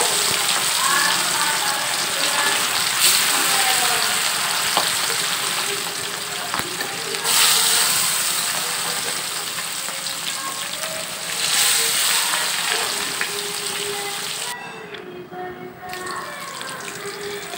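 Pieces of Japanese puti fish sizzle steadily in hot oil, a dense, broad crackle running throughout with a few brief louder bursts as more pieces go in, and a voice speaking faintly under it.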